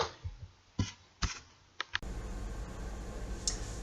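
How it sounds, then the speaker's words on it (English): Tarot cards are shuffled: a few sharp, separate taps and clicks of the deck, then a steady, close papery riffling that runs on without a break. "I am just finishing shuffling up the cards."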